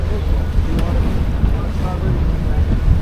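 A sailboat motor-sails on open sea, its engine a low steady drone under strong wind buffeting and rushing water, continuous and close.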